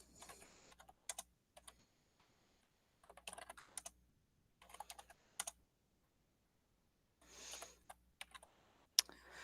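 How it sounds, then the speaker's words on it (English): Typing on a computer keyboard in a quiet room, with several short runs of key clicks separated by pauses of silence. "You're just typing in first names only."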